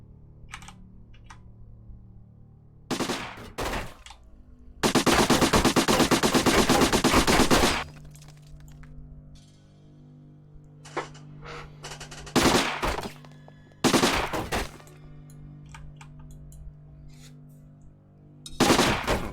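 Enemy gunfire in the tactical video game Silent Storm 2: short automatic bursts and single shots, with one long sustained volley in the middle and several sharp bursts later, loud against a quiet background hum.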